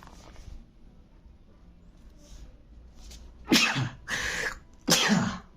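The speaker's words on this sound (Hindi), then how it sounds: "सर्दी बारिश में ना भीगने से छींक बहुत आ रहा है" A man with a cold sneezes during a statistics lesson, a series of three loud, close sneezes in quick succession after a few seconds of quiet room tone.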